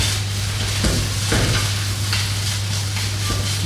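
Tomato puree frying with softened shallots and garlic in a pan, pressed and stirred with the back of a spoon, giving a steady close sizzle with occasional scraping strokes.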